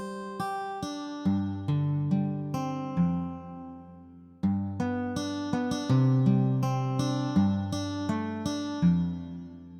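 A simple repeating pattern played on a synthetic guitar-like instrument: evenly spaced plucked notes and chords, each decaying before the next, clean and close with no voices.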